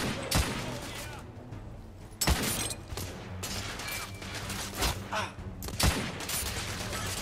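Sharp gunshots ring out every second or so in The Order: 1886 during a balcony firefight, cracking over dense game noise while someone talks.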